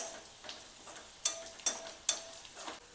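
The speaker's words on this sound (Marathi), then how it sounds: "आता धने टाकायचे, धन्याला पण छान भाजून घ्यायचं" Coriander seeds roasting in a dry pan for a Maharashtrian patodi curry masala, giving soft scratchy stirring with a few sharp ticks and clicks of seeds hitting the pan, close and fairly quiet.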